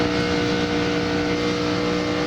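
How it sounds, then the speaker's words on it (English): Busch Grand National stock cars race at Atlanta, their engines a loud, dense, continuous roar of several cars at high revs. The sound is close and sustained throughout, with no speech. "get the full sound of these Busch Grand National racers"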